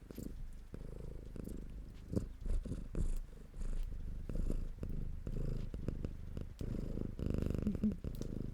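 A cat purring close to a microphone, a low continuous rumbling purr with rhythmic pulses and some handling bumps, with no talking.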